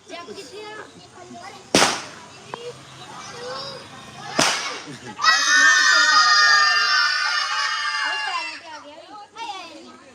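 Firecrackers burst at a Ravan effigy burning during a Dussehra celebration, giving two sharp, loud bangs a few seconds apart. People talk nearby, and a lively crowd shouts and screams after the blasts.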